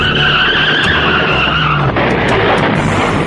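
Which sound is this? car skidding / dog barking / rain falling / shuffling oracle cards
car skidding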